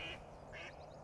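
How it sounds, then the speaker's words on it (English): Ducks quacking outdoors at a morning landscape photography spot, two short nasal quacks at the start and middle over a steady low background hum. "Good morning, ducks."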